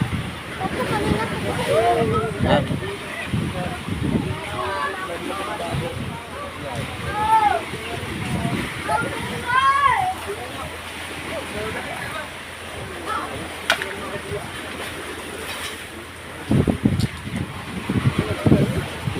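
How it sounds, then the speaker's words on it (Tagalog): Strong sea waves wash around a small boat, heard as a continuous rough rushing with repeated surges, wind buffeting the microphone, while people talk over it. "Lakas ng alon."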